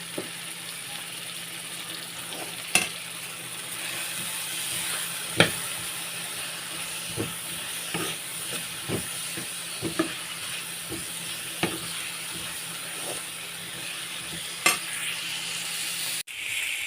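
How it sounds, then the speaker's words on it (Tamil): Cut brinjal and drumstick sautéing in a pan for kaara kuzhambu: a steady low sizzle runs throughout, broken by sharp clinks and scrapes of a spoon stirring against the pan at irregular intervals. "இப்போ நம்ம வெட்டி வச்சுருக்கிற கத்திரிக்காய், முருங்கைக்காவை அதில் ட்ரான்ஸ்ஃபர் பண்ணி அதையும் நல்லா வதக்கிடலாம்"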